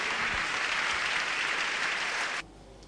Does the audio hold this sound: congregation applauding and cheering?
yes